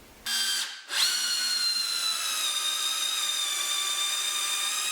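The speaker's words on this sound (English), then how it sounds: "So, that's the Festool QUADRIVE 18 volt combi drill available from ITS." A Festool QUADRIVE 18V cordless combi drill whirs up to speed after a brief start-stop, then holds a steady, close, high-pitched motor whine with no talk.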